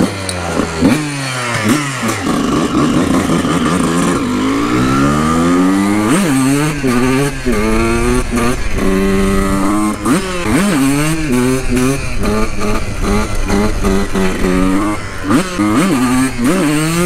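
Honda CR 125 two-stroke motorcycle engine revving hard, loud and close, with repeated rising and falling throttle blips and sustained high-pitched buzzing across the whole stretch.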